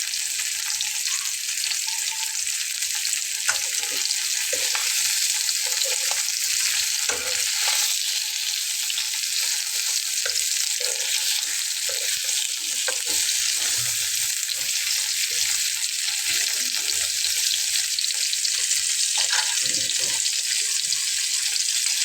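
Whole fish stuffed with garlic fries in a pan, giving a loud, steady, dense sizzle that runs the whole time. Occasional soft scrapes and pops sit underneath it.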